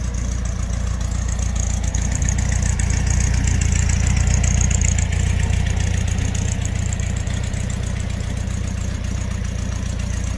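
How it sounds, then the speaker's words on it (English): A 1971 Volkswagen bay window bus with its air-cooled engine idling steadily nearby, a constant low rumble and chug that holds even and unbroken throughout with no talk over it. "Motor running a little bit for you."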